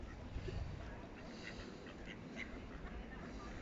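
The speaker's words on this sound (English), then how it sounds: "take a look at the duckies" Ducks quacking outdoors in the seaside village of Sandsend, a few faint calls scattered over steady wind and background noise.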